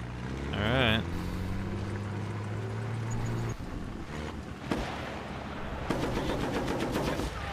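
Rapid machine gun fire and explosive game combat from Battlefield: Bad Company, a steady dense rattle of shots running throughout, with brief louder bursts and a voice speaking over the gunfire.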